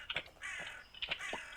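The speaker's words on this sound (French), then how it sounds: "Je vais aller voir si le corbeau est là sur le côté." Crow caws inside the video game Pumpkin Panic, three or four harsh calls spaced out over under two seconds, fairly close and clear with no talk over them.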